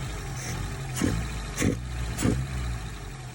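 A Lotus Elan restomod engine on carburettors idles with a low steady drone, and three quick throttle blips rise and fall about half a second apart, close by, with no one talking.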